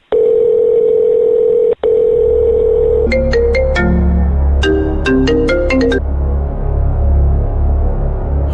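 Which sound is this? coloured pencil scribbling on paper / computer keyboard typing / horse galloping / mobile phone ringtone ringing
mobile phone ringtone ringing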